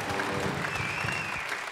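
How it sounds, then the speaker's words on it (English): Concert audience applauding after a set, a steady wash of clapping that holds at an even level throughout, with no voices rising above it. "Give yourselves a round of applause."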